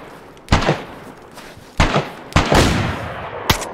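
Gunfire in a DayZ firefight: four sharp, loud shots at uneven intervals, each trailing off in an echo across open terrain, with quiet gaps between them.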